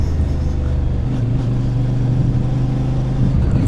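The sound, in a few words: CFMoto 450MT motorcycle engine revving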